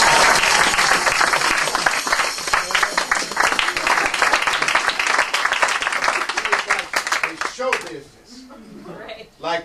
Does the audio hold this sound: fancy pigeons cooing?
no